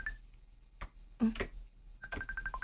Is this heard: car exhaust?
no